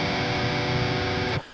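A distorted electric guitar dyad of a root G and its third B rings out as one thick, sustained chord, loud and steady before cutting off abruptly near the end.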